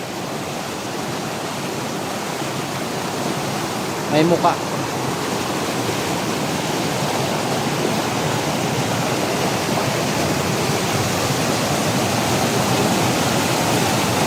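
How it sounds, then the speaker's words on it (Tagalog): Strong rushing water of a jungle waterfall stream, a dense steady roar filling the whole stretch, with a brief spoken remark barely rising above it. "Grabe, ang lakas ng tubig."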